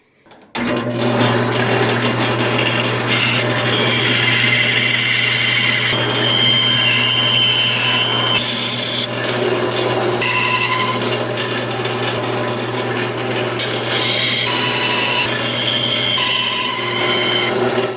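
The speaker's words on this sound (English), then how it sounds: "Now let's go cut them out on the bandsaw." A bandsaw cuts through wood to shape spatulas, a loud continuous whine with a steady low hum and shifting high rasping as the blade works through the board, running for the whole stretch without talk.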